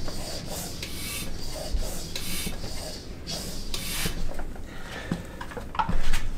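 Air is pumped by hand into a pressure bottle, giving close, repeated rasping whooshes in a steady stroke-by-stroke rhythm, with no voices.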